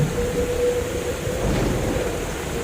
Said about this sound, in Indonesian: Pada malam yang ke-14, masih terjadi badai.